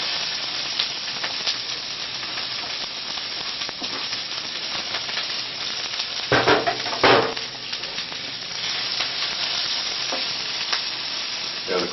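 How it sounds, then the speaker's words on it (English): Onion browning in a hot frying pan for an Australian steak sandwich, a steady close sizzle and hiss with occasional stirring scrapes and a brief louder burst midway, no talking. "the first thing we need to do is brown our onions"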